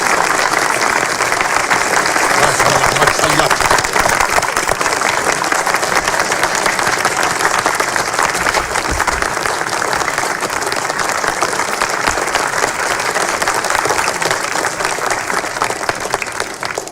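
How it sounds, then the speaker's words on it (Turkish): A crowd applauds the groom in a wedding scene, with loud, dense and continuous clapping from many hands that keeps a steady level for a long stretch, and faint murmurs of voices now and then. "Gelinler damat reis bey geliyor. Alkışlayın."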